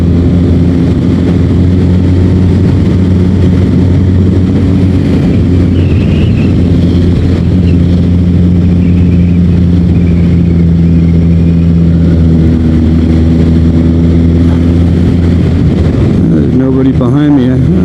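A Suzuki Hayabusa on its first-service morning ride to the mountain in California, its engine a loud, continuous low drone that holds steady, then shifts pitch near the end, with wind rush throughout.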